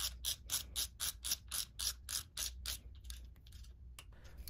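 A ratchet wrench clicks in quick rhythmic bursts while a bolt is tightened to 45 inch pounds during a Harley Twin Cam chain tensioner replacement, close and loud, then slowing into a few scattered strokes.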